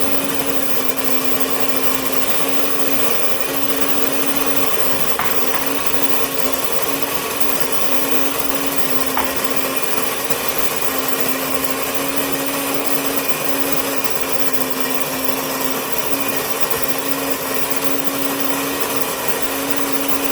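An electric grain mill grinds wheat into flour with a loud, steady whirring drone and a constant mechanical hum that runs unbroken throughout, with no talking.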